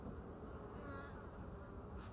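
A dense, continuous hum of many honey bees buzzing together at an open hive at close range, steady and unbroken.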